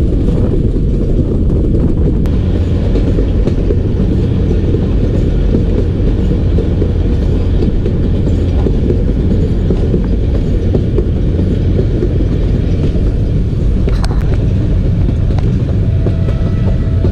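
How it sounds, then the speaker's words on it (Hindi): The Jaffar Express runs on tracks through the Bolan Pass between Sibi and Quetta, giving a loud, continuous rumble and rattle of wheels and carriages with wind noise, heard from on board without any talking. "मच सिटी में एंटर हो रही है ट्रेन,"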